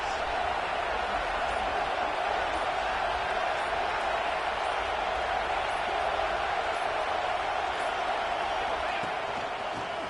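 Steady roaring stadium crowd noise in the NCAA 26 college football video game, a dense continuous wash of cheering at constant loudness with no pauses.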